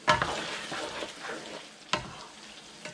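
Ground pork picadillo, seasoned with sugar and salt, sizzles and fries in a pan while a utensil stirs it, giving scraping strokes with sharp clacks near the start and again midway, all close by with no talking.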